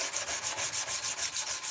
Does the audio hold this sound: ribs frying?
no